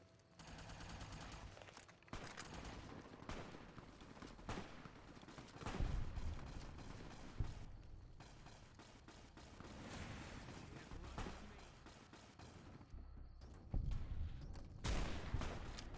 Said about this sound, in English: Sixty 50 cal bullets is a lot of bullets.